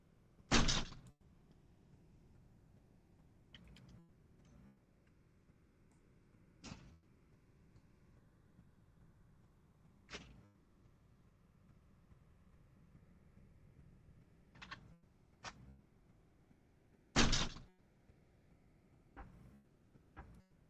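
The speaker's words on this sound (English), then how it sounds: "this is him trying to get in Nick's back door" Someone trying to force a house's back door: a string of sharp knocks and bangs, a few loud ones, scattered across a quiet background with no talk.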